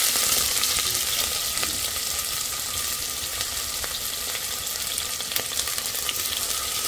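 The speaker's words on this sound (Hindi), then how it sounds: "हाई फ्लेम पे हम इनको अच्छे से भून लेते हैं प्याज को" Chopped onions sizzle and crackle in a pan over high flame, a steady close frying hiss with occasional sharper pops and stirring scrapes, alone without talk.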